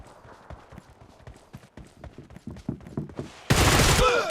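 Gunfire in the mobile shooter PUBG Mobile: a string of sharp, rapid shots in an uneven rhythm, ending in a loud, dense burst of blasting noise in the last second.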